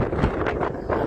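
Strong wind buffets a microphone outdoors during rain and hail in Enna, giving a loud, continuous low rumble with rhythmic gusty surges over about a second.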